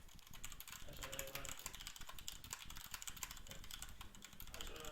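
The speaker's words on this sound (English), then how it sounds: "We can hear you typing, Bass." Fingers tap rapidly and unevenly on a computer keyboard close to the microphone, a dense run of clicky keystrokes that goes on without pause.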